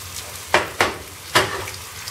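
Crepe batter hits hot melted, slightly caramelized butter in a pan, three sharp sizzling bursts over a quiet hiss, each flaring up and then fading.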